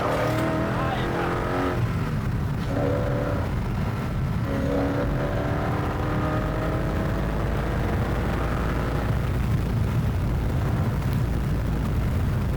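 Koenigsegg CCX supercar engine roaring under load while driving, a dense continuous growl with rising and falling revs heard from inside, with people talking over it.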